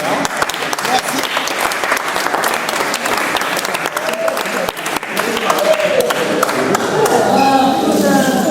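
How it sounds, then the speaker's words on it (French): Applause from a group at a visit to a football federation training centre in Sidi Moussa, steady dense clapping filling the whole stretch and swelling slightly toward the end, with scattered voices mixed in. "On applaudit tout le monde."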